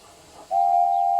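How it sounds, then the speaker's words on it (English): Steam engines whistle impatiently at a station, waiting to depart: a single loud, steady, sustained whistle tone that starts abruptly and holds to the end, over faint background hiss. "They whistled impatiently."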